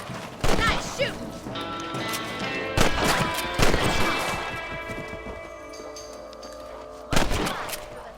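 Gunshots while hunting rabbits in the Red Dead Redemption video game: several sharp rifle cracks spaced a few seconds apart, loud and close, with ringing game music and ambience between them and a brief voice.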